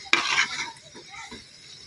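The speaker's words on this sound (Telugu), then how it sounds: "టమాటా ముక్కలు వేసుకొని ఇలాగ బాగా కలుపుకోవాలి" A spoon stirs tomato pieces in a cooking pan: one brief scraping clatter followed by softer, quieter stirring sounds.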